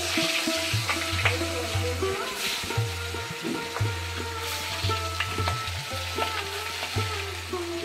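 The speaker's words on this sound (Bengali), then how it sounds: "আর মা এখানে ভাজছে ঠাকুরের যে ভেটকি মাছ দেওয়া হবে" Bhetki fish fries in a pan for a festival meal, a close continuous sizzle and crackle with spatula stirs, while a low hum runs underneath and a voice speaks intermittently over it.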